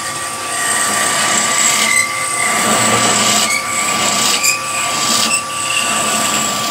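Steady high-pitched whir of a lathe spinning wood, with a skew chisel cutting in a continuous hiss broken by a few brief changes in pressure.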